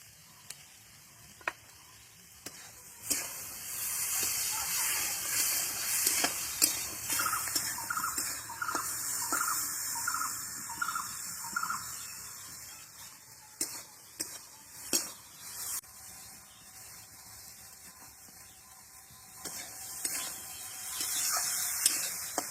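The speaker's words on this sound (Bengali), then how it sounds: "এরকম হালকা ভেজে নেবো বেশি ভাজবো না" Small puti fish frying lightly in a pan for a curry with green tomatoes, a hissing, spattering sizzle that swells and fades over the stretch, with sharp clicks and pops on top and no voices.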